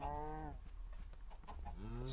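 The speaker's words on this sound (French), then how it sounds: "Elle est folle là, la vache, elle est folle." A cow in the Minecraft video game moos twice, a long drawn-out call, a short pause with faint clicks, then a second moo starting, all fairly close.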